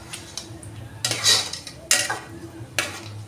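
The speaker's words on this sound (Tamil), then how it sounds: "சரிங்களா, இந்த மாதிரி கிளறி விடணும்." A spoon stirs a liquid mixture in a pot while home cooking, giving a few irregular scraping swishes and clinks close by, with quiet pauses between strokes.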